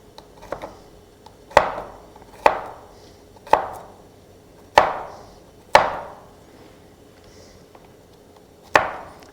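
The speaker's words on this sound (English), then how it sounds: "Now I'm going to slice up some garlic in real thin slices" A knife slicing garlic into very thin slices on a cutting board: six or seven sharp, close chops at uneven intervals, each with a short ringing decay, alone with no speech.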